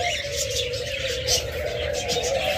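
A pair of peace doves in a bird seller's cage coo softly amid a steady background hum, with faint chirps of other caged birds such as budgerigars and cockatiels mixed in.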